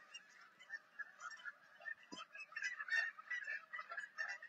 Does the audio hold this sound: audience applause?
no